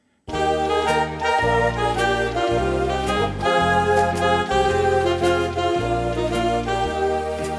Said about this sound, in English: you can actually hear the machine harmonize with my chords